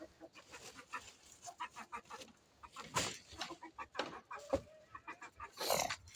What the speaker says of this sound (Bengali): ওটার ভিতরে থাকে মুরগিগুলো